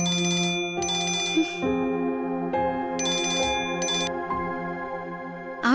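A mobile phone rings with an incoming call, playing a bright electronic melodic ringtone of sustained tones and repeated high chiming bursts, loud and close, with no talking.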